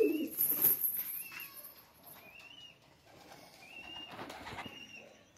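Soft pigeon coos and light fluttering, heard close by over a quiet background, with a few brief chirps.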